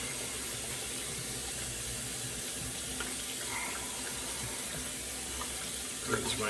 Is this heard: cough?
no